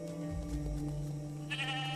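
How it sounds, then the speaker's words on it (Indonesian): A goat bleats briefly and faintly near the end, over a low droning tonal background. "dia rela menyerahkan kambing yang dia miliki untuk mengurangi hutang ayah Susana"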